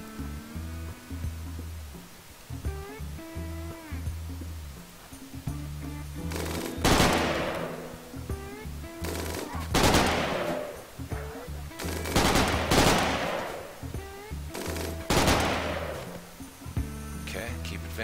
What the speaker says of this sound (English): They're shooting each other, aren't they?